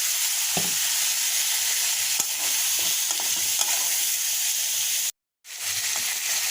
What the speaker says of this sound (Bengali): এখন এই ডাঁটাটা দিয়ে কষিয়ে নেব।